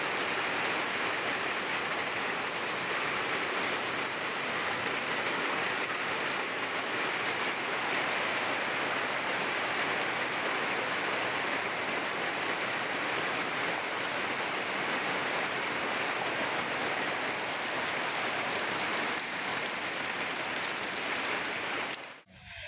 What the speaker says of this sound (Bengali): দেখো বলতে বলতে কিভাবে ঝমঝমিয়ে বৃষ্টিটা চলে এলো